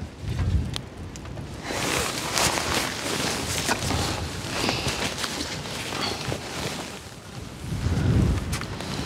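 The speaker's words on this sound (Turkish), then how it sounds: "Oo çok rüzgar var." Strong wind roars at a caravan campsite during a thunderstorm, buffeting the microphone in a continuous, loud rush that swells into gusts.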